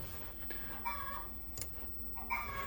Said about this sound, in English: hear my chickens back there.